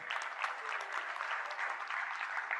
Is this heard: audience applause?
yes